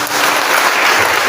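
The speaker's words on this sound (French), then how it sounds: "Donne des acclamations" A congregation at a prayer gathering bursts into loud, dense applause, a steady close wash of clapping hands with no gaps.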